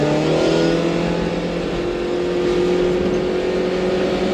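A supercharged Subaru truck accelerates hard, its engine roaring loud and close in a steady, sustained pull with no talking.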